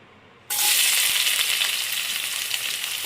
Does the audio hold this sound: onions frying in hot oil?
yes